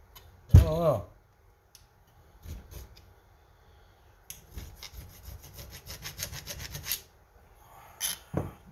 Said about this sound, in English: You scratch it and tell by what kind of metal it is.